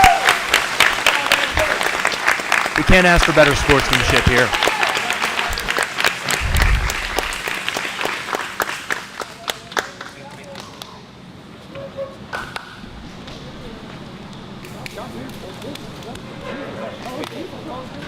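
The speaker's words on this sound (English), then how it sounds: "please give him a round of applause" Crowd applause at a combat jiu jitsu event, loud and sustained clapping with cheers at first that tapers off into a thinner scatter of claps, someone talking over it.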